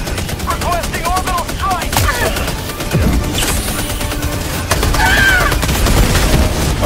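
Bombardment gunfire in a video game: a steady, loud barrage of rapid shots and booms rattling throughout, with a heavier burst near the end and a voice briefly talking underneath.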